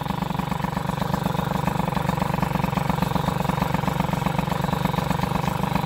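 A scooter engine idles steadily while warming up, a continuous near, even buzz with a fine rapid pulse that holds level throughout. The scooter has a Stradivarius V2 variator with boost cheeks, original clutch, 18 g rollers and a grade 15 belt.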